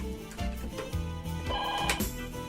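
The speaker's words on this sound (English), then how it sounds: "And there's the telephone." Telephone ringing indoors, its bell tones repeating in a steady rhythm over a low background hum, fairly loud and close, with no talking.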